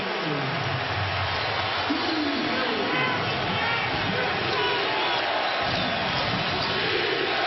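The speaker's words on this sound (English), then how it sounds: "Crowd trying to urge these Pacers on" Basketball arena crowd at an NBA playoff game between Miami and Indiana, roaring and cheering on the Pacers in a steady, dense wash of noise, with a commentator talking over it.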